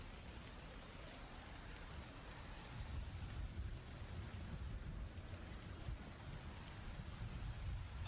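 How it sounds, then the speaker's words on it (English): Low rolling thunder rumbles beneath a steady hiss of rain, a continuous ambient storm bed with deep swells of rumble, heard alone without voices. "The thunder roars again around you."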